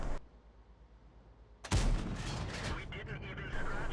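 Tank gun shell striking an IS-3 tank in a video game: a single loud, heavy boom bursts in after a quiet stretch, then rolls into a dense rumbling tail.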